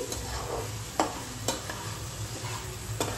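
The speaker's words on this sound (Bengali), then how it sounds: "আমি যতক্ষণে ফ্রাই করছি" Food with potato frying in a pan, a continuous sizzle under a low hum, broken by a few sharp spatula knocks at irregular intervals, no voices.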